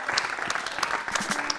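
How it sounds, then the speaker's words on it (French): An audience claps steadily for performers at a televised artist showcase, with dense continuous clapping throughout and faint voices beneath. "Applaudissements, s'il vous plaît, avec Manasseh, Wilson et Soulja Boy"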